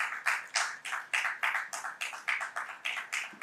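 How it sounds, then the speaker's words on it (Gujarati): An audience at a Sanskrit speech event welcomes the speakers with rhythmic, unison clapping, steady sharp claps at about three per second, close and clear, with no other sounds. "આપણે વક્તાઓનું ખૂબ તાળીથી અભિવાદન કરીશું"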